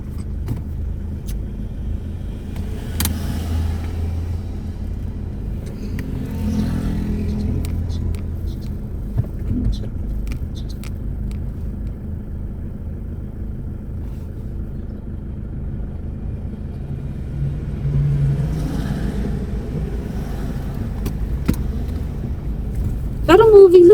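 Cars in a slow-moving traffic jam on a road, steady low engine and tyre rumble throughout with occasional passing vehicles, heard from inside a car amid faint voices.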